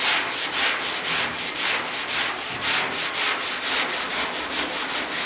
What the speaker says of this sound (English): you want to make sure you got some good sandpaper so it takes the least amount of effort to get it done